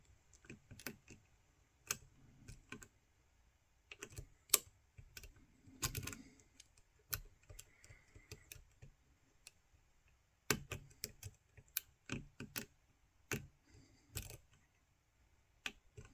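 Faint, sparse clicking and ticking from a lock pick working inside a Dorma DC500 oval lock, with small irregular taps and scrapes scattered across a quiet background, close up and without any talk.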